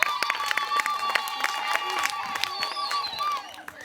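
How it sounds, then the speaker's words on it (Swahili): Applause from a congregation at a church service, a dense run of clapping with scattered cheering from the crowd that carries steadily through the moment before fading near the end. "Ongeza makofi tena kwa Yesu."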